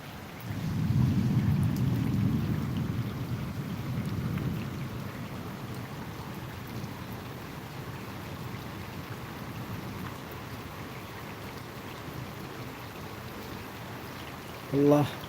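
Night rain falling over Dhaka with a heavy low rumble of thunder in the opening seconds, then a steady wash of rainfall continuing alone, and a brief sharp crackle near the very end.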